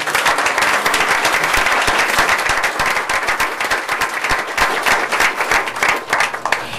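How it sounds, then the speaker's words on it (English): Loud, sustained applause from a crowd at a board meeting, dense clapping filling the whole stretch without letting up. "Let's give a round of applause to the Barrow Buddies."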